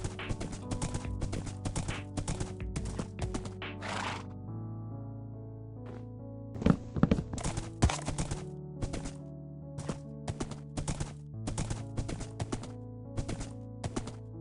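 A horse in Minecraft clip-clops along in quick bursts of hoof clicks, crisp and close, over steady background game music with short pauses between runs.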